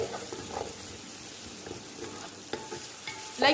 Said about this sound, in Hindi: इसके बाद इसे कर लूँगी मिक्स और कर लूँगी अच्छा सा फ्राई ताकि इस मसाले की खुशबू इस सब में बहुत अच्छे से आ जाए